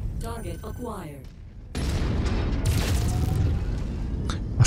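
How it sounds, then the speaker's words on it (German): A mech's chest-mounted cannon firing in the video game MechWarrior 5, heavy booming blasts and a sustained rumbling barrage that follow a stretch of game voice, loud and close. "ich habe ja die Kanone hier im Brustkorb quasi"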